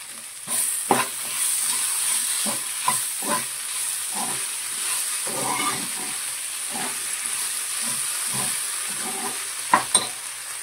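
Ginger garlic paste frying in a pan for bendakaya curry gives a soft, steady sizzle with a faint high hiss, broken by the scraping clinks of a spoon stirring it at irregular moments, with a couple of sharper knocks near the end.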